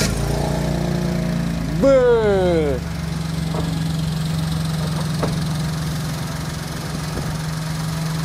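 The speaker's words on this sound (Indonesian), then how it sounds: "kita coba dengerin dulu suara mesinnya yang harusnya tuh indah banget ya" A Daihatsu Sigra prepared for drag racing, still on its stock engine, starts with a brief rising rev and then settles into a steady, close idle. A man briefly exclaims over the engine.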